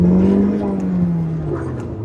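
A Maruti S-Cross with a manual gearbox, engine pulling under load while driving, a steady droning hum that sags slightly in pitch as it labours, heard close from inside the cabin with no talk.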